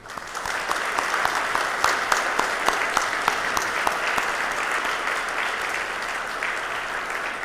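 Dense, sustained applause fills a banquet room at a 2015 Hall of Fame gala dinner, many hands clapping steadily and loudly for the full stretch with no voice on top.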